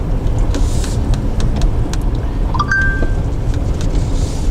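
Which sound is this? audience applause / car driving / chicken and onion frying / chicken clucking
car driving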